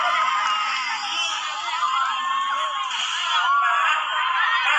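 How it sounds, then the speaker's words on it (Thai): A crowd screams and cheers continuously at a Thai folk music stage show, a loud, dense wall of high shrieks and whoops with voices mixed in throughout. "โอ้โห เอาขอเสียงกรี๊ดกับคุณเอมี่"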